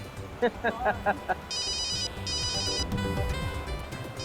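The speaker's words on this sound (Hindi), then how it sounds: "ओहो, देखो किसका फोन आया है।" A phone rings inside a car, an electronic ringtone chirping in two short bursts over low road rumble, after someone briefly talks.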